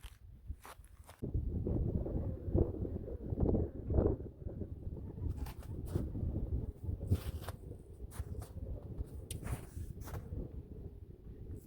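Steady outdoor wind gusting through a fishing spot keeps up a low, continuous rumble of buffeting. A few faint clicks and taps come through over it.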